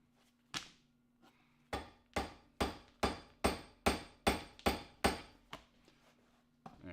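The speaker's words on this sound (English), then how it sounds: "Pass me your ball peen." A ball peen hammer strikes a metal gorget in a workshop, one blow followed by a steady run of about ten sharp, ringing metallic hits, close and loud over a low electrical hum.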